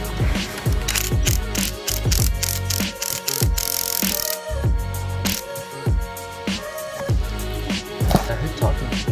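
A ratchet tightening the coilover nut on a BMW F30 340i, fast repeated clicking strokes up close with brief pauses between pulls.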